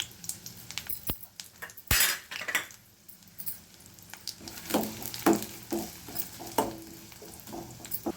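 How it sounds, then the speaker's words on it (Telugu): Onion and green chilli frying in hot oil in a pan, a steady sizzle broken by spoon scrapes and metallic clinks against the pan. "ఆయిల్ వేడెక్కిందండి. ఉల్లిగడ్డ, పచ్చిమిర్చి వేసుకుంటున్నానండి."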